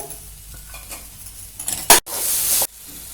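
Grated fresh coconut being sautéed in a pan for a sweet modak filling, with steady stirring scrapes and a soft sizzle that swell into a loud, hissing burst near the end.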